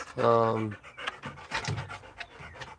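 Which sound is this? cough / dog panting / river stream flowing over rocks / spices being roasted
dog panting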